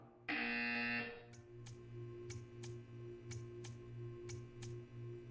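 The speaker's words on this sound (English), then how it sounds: "You will hear a buzzer." A harsh electronic buzzer in the video game Portal 2 blares loudly for about a second, followed by a series of short, regularly spaced ticking clicks.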